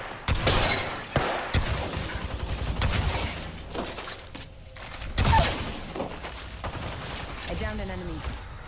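Gunfire in Apex Legends Shadow Royale mode, with sharp bursts of shots and loud blasts scattered over several seconds, mixed with voice lines and game effects.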